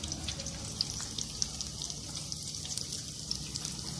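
Chopped garlic sizzles steadily in four tablespoons of hot white oil, a continuous soft crackle with faint popping throughout, heard alone without any talking.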